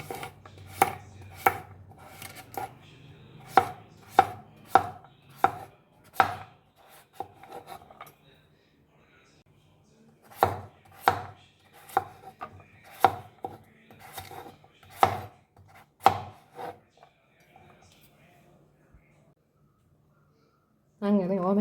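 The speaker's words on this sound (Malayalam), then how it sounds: "ഇപ്പം ചെറുതായി കീറിയെടുത്തിട്ട് നമുക്കിത് അരിയാം." A knife chops raw papaya into small pieces on a board in a home kitchen: crisp, evenly spaced thuds in two quick runs separated by a short pause, close and alone.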